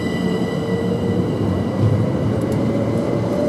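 A Great Northern train pulls out of Royston station bound for London King's Cross, a loud steady rumble and hum of traction motors close by, continuous and unbroken.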